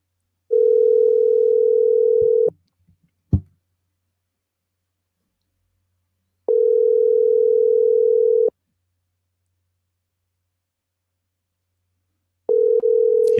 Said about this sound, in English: I'm going to get Ryan on the line then via the Subway Fresh Take hotline.